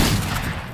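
A single shotgun blast in a video game, a short, loud, broadband burst that decays within a second.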